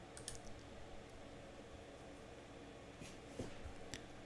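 A mouse clicks a button in the MAMP server interface. The few faint, brief clicks come near the end, over a low background hiss.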